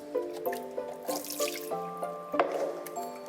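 Water running from a tap fills a small pot for handwashing after leaving a cemetery in Israel, with ringing, bubbling tones as the pot fills and splashy pulses throughout.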